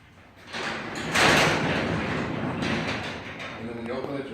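A garage door on a balanced spring rolls along its track in a steady, broad rumbling rush that swells and then holds for several seconds, with a person faintly talking underneath.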